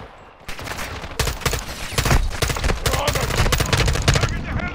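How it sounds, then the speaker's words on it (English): Rapid automatic gunfire in Call of Duty Modern Warfare II, loud bursts of shots starting after a brief quiet moment and continuing densely to the end, close and dominant. "he's actually shooting"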